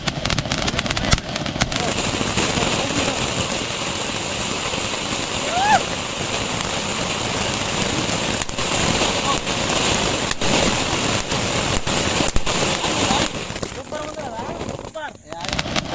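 Firecrackers set off outdoors for a test, giving sharp bursting bangs at irregular intervals over a loud, steady background, with voices talking in between.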